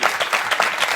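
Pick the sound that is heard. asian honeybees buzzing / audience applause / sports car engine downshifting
audience applause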